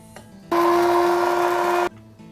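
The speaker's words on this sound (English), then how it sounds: "We're going to place that into our spice grinder and we're going to grind." An electric spice grinder whirs loudly for about a second and a half as it grinds roasted cardamom seeds, a steady high motor drone that starts abruptly and cuts off sharply, with quiet room noise before and after.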